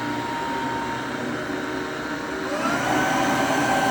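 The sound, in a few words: Hoover OnePwr Smart Wash cordless carpet cleaner running in smartwash mode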